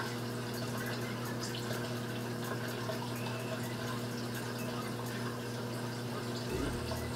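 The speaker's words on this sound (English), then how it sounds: "So let's rinse this off, rinse the probe." Tap water runs steadily to rinse a probe in a reef tank lab, a continuous, fairly faint rushing flow with no break.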